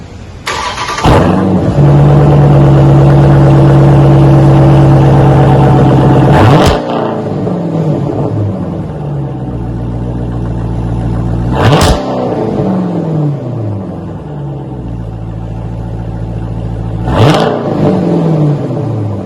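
A 2021 Dodge Durango with a true X-pipe exhaust and rear mufflers starts with a burst, then idles loud and close with a deep, steady drone, broken by three sharp revs that rise and fall back to idle.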